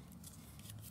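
Scissors slicing through paper pocket sheets for a small Christmas traveler's notebook, one brief quiet snipping cut heard close up over a faint low hum.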